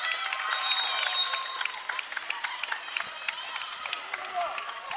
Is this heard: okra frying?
no